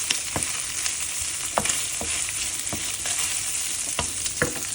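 Lardons frying in a pan as a spatula stirs them, a dense crackling sizzle punctuated by repeated sharp scraping knocks.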